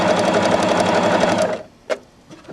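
A sewing machine runs a compact decorative stitch with stitches set close together, a steady fast mechanical whir for about a second and a half, then stops, followed by a brief clunk and quiet handling.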